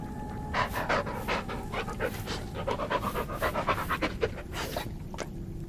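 A dog pants steadily and close by in the Blair Witch video game, a quick, even rhythm of breathy huffs that carries on without pause and with no talking over it.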